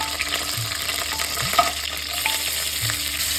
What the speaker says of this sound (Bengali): আমি ফোড়নগুলো দিয়ে দেবো, তেজপাতা আর দুটো দারচিনি, ছোটো এলাচ, লঙ্কা থেকে এখন দেবো